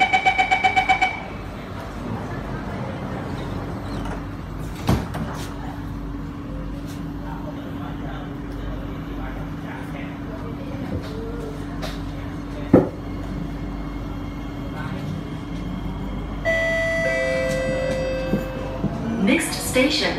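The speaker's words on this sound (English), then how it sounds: "Doors are closing." Inside a moving Singapore train approaching Bukit Gombak, a quick series of chime beeps sounds over steady rumble, and later a sustained warning tone plays as the doors close.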